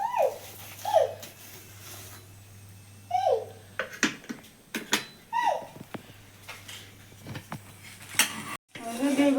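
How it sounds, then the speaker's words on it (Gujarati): Paratha being turned on an oiled pan, with metallic clinks and scrapes of a utensil against the pan. Short taps and knocks come in bursts, close and moderately loud, with a few brief vocal sounds in the background. "તેલ લગાડી દીધું છે અને હવે આપણે ફેરવી નાખીએ"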